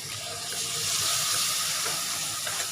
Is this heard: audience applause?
no